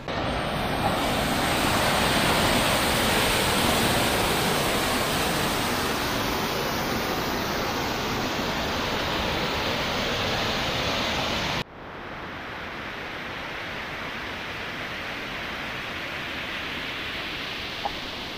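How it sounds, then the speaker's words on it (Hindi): A small waterfall pours out of Tharkot lake near Pithoragarh, Uttarakhand, making a steady, close, broadband rushing roar that drops abruptly to a softer level about two-thirds through, with no voices. "थरकोट लेक से एक छोटा सा फॉल तो क्या कहेंगे पानी एग्जिट हो रहा है"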